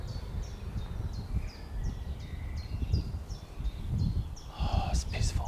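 Birds chirp and sing in a steady series of short, repeated calls at a quiet Isle of Wight Island Line train station. Low outdoor rumble sits underneath, and a few louder rustles come near the end.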